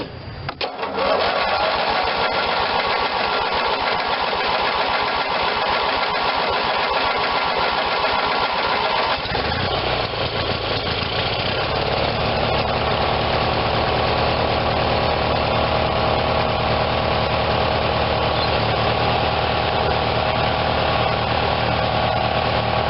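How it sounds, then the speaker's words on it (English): A Briggs and Stratton twin cylinder tractor engine, neglected and being revived, cranks over and then runs with a loud, steady, close drone that settles into a continuous rough idle for the rest of the clip. "Probably going to crank a while before we really get fuel up there."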